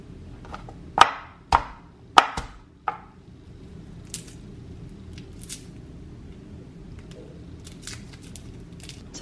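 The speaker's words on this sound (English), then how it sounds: "Let's cut off the butts of the garlic." A knife chops through the ends of garlic cloves on a board, four or five crisp close cuts in quick succession, then quieter scattered clicks and handling noises.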